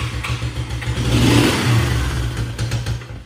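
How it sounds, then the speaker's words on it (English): A motorcycle engine runs up close and loud, a low throbbing idle swelling into a brief rev before settling back down, with no talking. "doesn't this thing sound sweet? I really love the sound on this bike."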